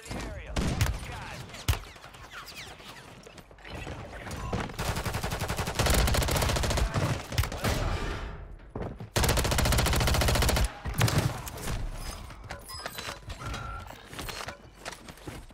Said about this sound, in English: Hitting every single shot, and yet my bullets are doing no damage.